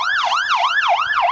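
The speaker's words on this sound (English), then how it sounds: "Tones rang out across Gilmer County and were followed by the sound of sirens" Emergency vehicles sound their sirens during a disaster drill in Gilmer County, a loud, close wailing tone that sweeps up and down in rapid, regular cycles with nothing else heard over it.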